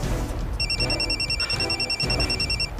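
A telephone rings in a home, a bright electronic trill repeating in quick pulses over about two seconds, fairly loud against a low room hum.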